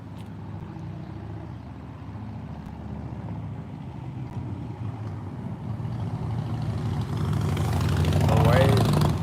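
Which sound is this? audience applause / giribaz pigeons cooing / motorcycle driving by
motorcycle driving by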